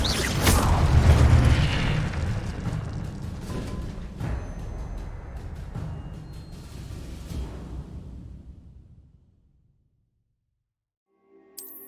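Incendio fire spell cast in Hogwarts Legacy, a loud booming burst with whooshing flame and scattered crackling pops that slowly fades into silence, followed by a faint chime at the very end.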